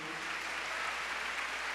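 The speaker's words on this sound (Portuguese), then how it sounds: "Pode aplaudir o Nelson hoje, hein?" Steady applause from an audience at a religious gathering, a brief, even wash of many hands clapping at moderate volume.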